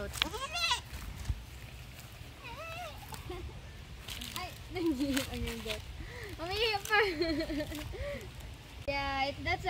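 A goat walked on a mountain hike bleats repeatedly with wavering, nasal cries at varied pitches, close and loud over outdoor rustle and footsteps, while people talk nearby between the calls.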